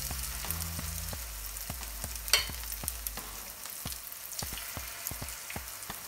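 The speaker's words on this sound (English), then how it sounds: "pan and I'm going to add my batter." Ackee and saltfish fritter batter frying in a pan, a steady soft sizzle with scattered crackles and pops, fairly quiet and without talk.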